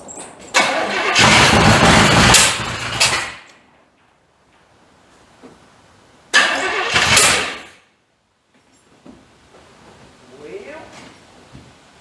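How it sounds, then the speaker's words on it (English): A gas engine swapped into a 1985 C30 truck in place of its diesel cranks and catches in two loud bursts, roughly two seconds and then one second long, separated by quiet, followed by faint shuffling noises. "let me get back in it and see if it'll fire up"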